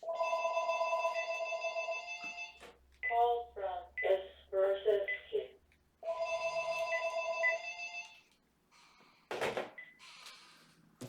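A telephone rings in repeated electronic trills, stops while a voice talks, then rings again before going quiet, all heard close up.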